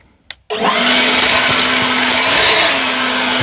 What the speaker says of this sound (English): I'm going to show you with this nozzle. I'm going to show you on the different speeds.